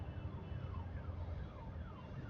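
An ambulance siren wails steadily through busy market-area traffic, its sweeping tones continuous and moderately loud over the rumble of engines around a car in second gear.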